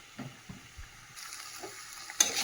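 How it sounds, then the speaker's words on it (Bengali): Boiled potatoes sauté in spice masala in a pan, with faint sizzling and a few soft scraping stirs, then a sharper louder scrape near the end. "এই আলুটা তো ভালো করে কষিয়ে নিচ্ছি"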